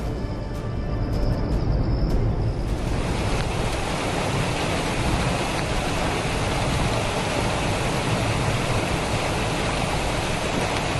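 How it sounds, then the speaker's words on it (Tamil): Floodwater surges down the swollen Chenab river in Jammu and Kashmir, a loud, continuous broadband roar of rushing water that fills the whole stretch without letup and with no voices. "ஜம்மு காஷ்மீரின் செனாப் நதியில் பெருக்கெடுத்து ஓடும் வெள்ளம்"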